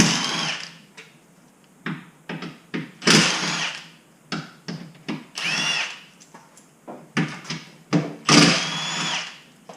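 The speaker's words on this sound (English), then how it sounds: "So I'm gonna go through and yank those all out. My trusty Milwaukee impact." A Milwaukee impact wrench hammers out 13 mm exhaust bolts on a 2019 Corvette Z06 in repeated short bursts, loud and close, each burst followed by a pause and a clink.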